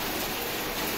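Heavy rain falls at Praia de Tamandaré, Pernambuco, a brief steady wash of broadband hiss at moderate level with no speech.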